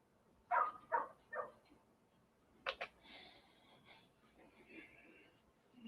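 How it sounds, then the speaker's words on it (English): A dog barks several times at moderate distance during a reloading session with a Lee Classic 4-hole turret press, with short sharp bursts early on and then fainter yips and whines under some background murmur. "May have to go get that dog here shortly if you don't stop."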